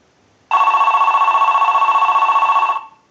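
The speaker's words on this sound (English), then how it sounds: "use the analyzer and send a ring cycle like you were getting a call" An AT&T 530 Trimline telephone rings from a test analyzer's ring cycle, one sustained electronic warble burst lasting about two seconds against near silence, close and clear.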